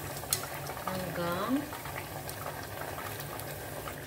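Oven-baked chicken nuggets are frying in a pan with a little oil, giving a low, steady sizzle close by while a person talks over it.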